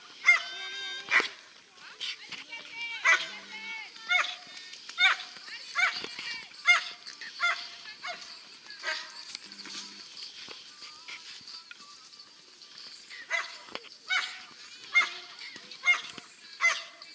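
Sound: dog barking

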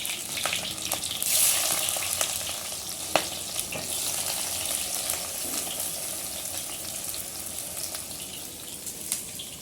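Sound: bitter gourd (karela) frying in hot mustard oil

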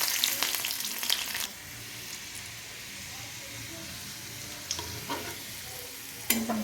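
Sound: garlic frying in oil

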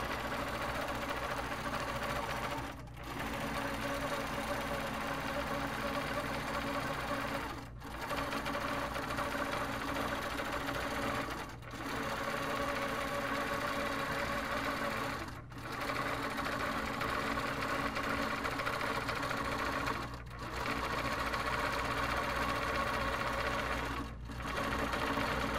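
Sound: HQ longarm quilting machine with Pro-Stitcher stitching

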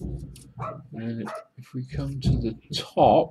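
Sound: dog barking

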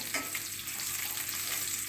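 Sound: frying içli köfte in a pan

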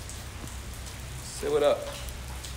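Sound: rain falling outside

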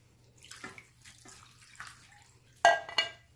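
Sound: water being poured into a frying pan

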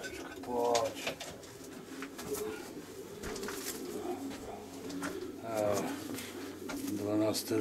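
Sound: pigeons cooing in a pigeon loft

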